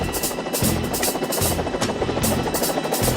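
A helicopter flies overhead with loud, continuous rotor chop and engine whine, pulsing steadily with no voices.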